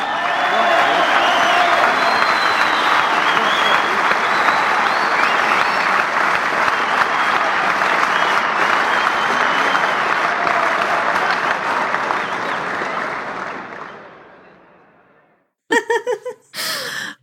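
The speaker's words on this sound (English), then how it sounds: "Rich, throw some applause in there, would you?" An applause sound effect dropped into a podcast: a full, steady crowd clapping for about fourteen seconds before fading out, followed by a few short bursts of talk.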